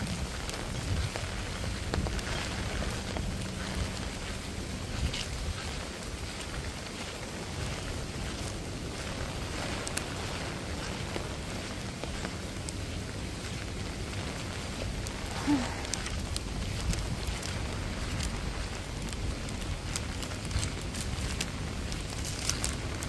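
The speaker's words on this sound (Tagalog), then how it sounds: "Sa lakas pa ng ulan eh. Ang hangin pala." Steady typhoon rain with gusting wind in Hong Kong, a continuous broadband rush that holds at a fairly even level throughout, with no talking.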